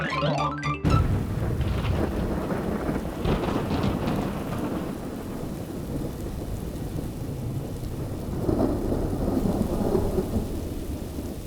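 Heavy rain pours in a Hindi comedy show scene, a dense, continuous hiss of downpour with deep thunder rumbling through it and swelling again near the end, with no voices.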